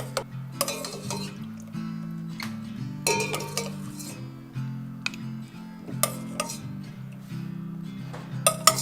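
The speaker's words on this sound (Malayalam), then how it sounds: "പാനിയും കൂടെ ചേർത്ത് നമുക്ക് കോരിയെടുക്കാം" A metal spoon scoops gulab jamun balls with sugar syrup from a pot, giving repeated sharp clinks and scrapes against the vessel at a steady, unhurried pace, with no talking.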